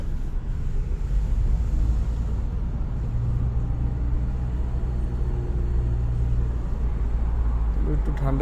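A car cruises along a highway at night, with a steady low engine and road rumble running throughout at constant loudness, alone without talk.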